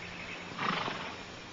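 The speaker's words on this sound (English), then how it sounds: "Beautiful horse." A horse gives a short neigh at moderate distance, rising briefly over a muffled background.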